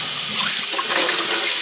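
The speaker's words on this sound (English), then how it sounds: "so I'll turn the water on" A kitchen tap runs hard, filling a Pur water filter pitcher, a loud, close, steady hiss and splash of water streaming without a break.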